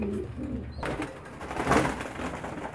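Pigeons cooing in a loft with squabs, a soft, steady run of close bird calls with no talk over them.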